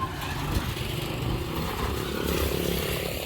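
A tuk-tuk engine passes on a road near Angkor Wat, Cambodia, its buzzing motor steady and fairly loud throughout, with rumble rising and easing slightly as it goes by.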